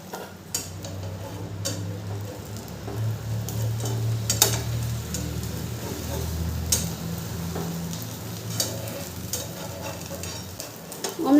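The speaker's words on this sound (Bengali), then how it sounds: "অমলেটটা এক পিঠটা ভালো করে ভাজা হয়ে গেছে" An egg omelette fries in a pan over a medium gas flame, giving a steady soft sizzle with scattered clicks and taps from a utensil, sustained throughout.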